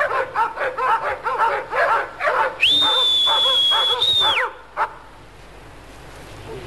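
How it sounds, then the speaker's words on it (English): A dog in New Zealand gives a rapid run of sharp, close barks. A person then whistles one long, clear, steady note, and the barking stops as the whistle ends. "What you do is you wait till you reckon they're about to stop barking, and you whistle just before it happens."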